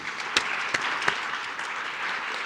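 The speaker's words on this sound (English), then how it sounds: "Please give a big round of applause welcoming Robert Reeves to NEAF 2017." An audience at an astronomy expo talk claps in welcome, a steady wash of many hands with a few sharper individual claps standing out near the start.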